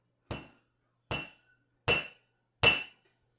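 A hammer strikes a small piece of tin metal four times, sharp clinking metallic taps evenly spaced about a second apart, each decaying quickly into silence.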